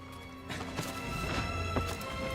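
Horse hooves clip-clop in a video game, a few sharp hoof strikes spaced over a couple of seconds against a steady background of game ambience and music, fairly close and moderately loud.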